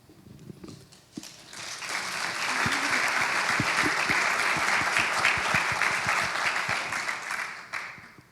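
An audience at a climate prize award ceremony breaks into sustained applause that swells quickly, holds steady for several seconds and then tapers off.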